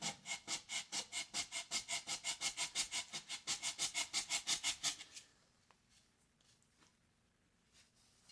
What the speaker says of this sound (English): So I'm going to sand just the bottom part here,